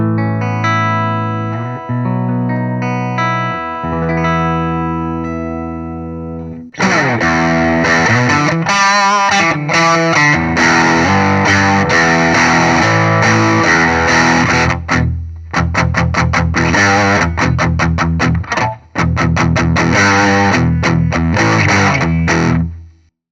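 Electric guitar runs through a TC Electronic Magus Pro RAT-style distortion pedal, opening with a few clean picked notes before switching to loud, saturated distorted riffs and chords with brief stops, close and alone with no talking.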